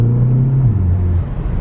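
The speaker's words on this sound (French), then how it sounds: "C'est le plus gros moteur des Polo. Regardez un petit peu démonstration." A Volkswagen Polo's 200 hp engine with DSG gearbox revs loudly up close, a deep steady drone that drops in pitch in two steps as the revs fall.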